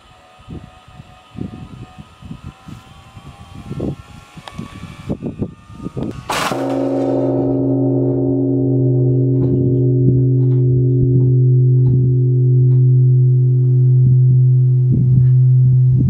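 Automatic bell in Japan striking the hour, starting with a loud clang after scattered background clatter and then ringing on as a sustained, humming tone at close range.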